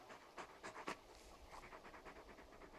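Large dog panting in Final Fantasy XVI, a video game: a quiet, steady run of rhythmic breathy pants over soft background ambience, with no speech.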